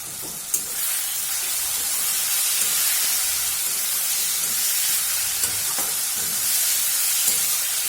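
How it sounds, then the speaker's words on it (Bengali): Garlic paste and yardlong beans with salt sizzle in a pan, a steady close hiss of frying with a few faint clinks and scrapes as the mix is stirred. "পুরো জিনিসটাকে একটু নেড়ে চেড়ে ফ্রাই করে নিচ্ছি।"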